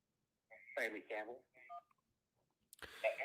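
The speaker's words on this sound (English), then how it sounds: "let's go back out to the phone lines. We got a call here." A telephone call connecting on a radio show's phone line. A few short, clear electronic tones sound against silence, followed by a voice starting to talk.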